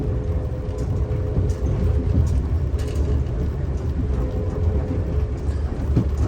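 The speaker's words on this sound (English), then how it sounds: "we've been mostly on clickety-clack territory. Jointed rail" Steady low rumble of a moving train with faint periodic clacks of wheels over rail joints, continuous and fairly loud, no voices.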